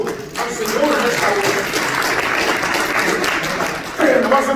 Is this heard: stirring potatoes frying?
no